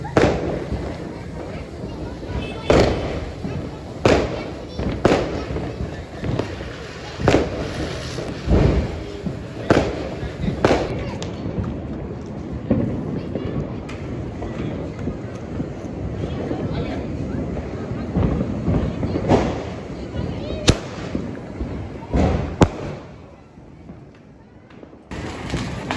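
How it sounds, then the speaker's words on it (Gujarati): Diwali firecrackers go off outdoors in a string of loud sharp bangs, repeated every few seconds over a rumbling crowd, with voices talking throughout. "ફટાકડા ફોડે."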